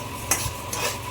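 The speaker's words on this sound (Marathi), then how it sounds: "लोखंडाच्या कढईमध्ये छान भाजून घेते खमंग." Caraway and cumin seeds are dry-roasted without oil in an iron kadhai, giving a steady scraping rustle with a few brief clinks as they are stirred, close up and with no voices.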